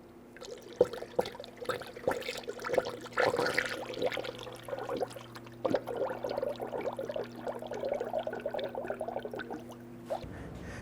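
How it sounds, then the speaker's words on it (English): Coolant is poured through a funnel into the radiator of a 1999-2004 Jeep Grand Cherokee 4.7L V8, a continuous gurgling, trickling flow with small splashes over a low steady hum, lasting about ten seconds without speech. "Now I'm going to go ahead and fill up our radiator with the manufacturer specified coolant."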